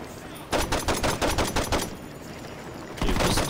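Rapid pistol gunfire in the Saints Row 2 video game, a quick burst of close, loud shots in a steady rhythm, a short pause, then more shots resuming.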